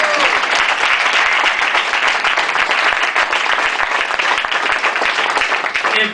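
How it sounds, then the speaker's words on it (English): Steady, dense applause from an audience at a leadership program event continues loud and unbroken throughout, with crowd noise mixed in. "Let's give a big Leadership L.A. a round of applause to Kevin and the entire SCLN team."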